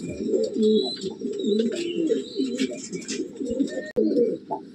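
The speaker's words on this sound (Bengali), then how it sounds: "দেখুন, কত সুন্দর পায়রা।" Giribaz pigeons coo close and loud in a steady run of low, throaty rolling calls, with faint higher chirps above and a brief knock near the end.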